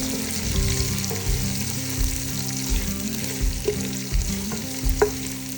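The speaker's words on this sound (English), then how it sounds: "Now add a whole onion sliced and saute it until it turns translucent." Sliced onion sautéing in a pot with whole biryani spices, a loud continuous sizzle punctuated by rhythmic spatula scrapes and occasional light clinks.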